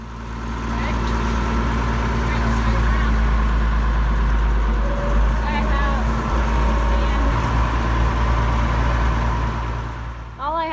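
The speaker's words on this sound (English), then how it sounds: "and take the tractor around the barn." A farm tractor drives around a barn after its PTO is shut off and it is put in fourth gear, giving a steady loud low engine drone throughout, with a voice talking over it.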